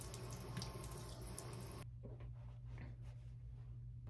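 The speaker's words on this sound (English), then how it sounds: "So we're rinsing." A bathroom faucet runs steadily for rinsing, a close, constant hiss of water that cuts off abruptly partway through, leaving a quieter low hum afterward.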